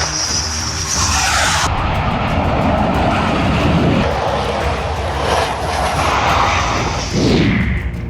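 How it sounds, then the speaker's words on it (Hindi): A fighter jet lands on an expressway in a touch-and-go, its engine a loud, continuous, close roar with shifting whine and rumble as it passes, without speech. "जेट की लैंडिंग।"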